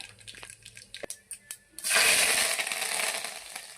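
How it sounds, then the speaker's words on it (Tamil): Mustard seeds hit hot oil in a heated pressure cooker for a brinjal thokku, setting off a loud, dense sizzle and crackle that starts suddenly after a few light clinks and taps and keeps going steadily. "கொஞ்சம் எண்ணெய் சேர்த்து விட்டுக்கலாம். கடுகு போட்டுக்கலாம்."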